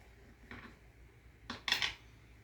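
A knife slices down into a tray of snickerdoodle cheesecake bars, a couple of short scraping contacts followed by a brighter clink of the blade against the pan, close up and quiet in a still kitchen.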